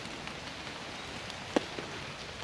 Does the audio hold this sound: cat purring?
no